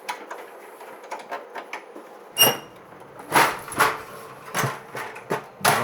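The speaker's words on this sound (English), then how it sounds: "Squeaky rubber feet." Rubber feet on a PS/2 Model 90 XP486 computer squeak against a tabletop as it is shifted, giving several short squeaks and scrapes in an irregular sequence, close and fairly loud.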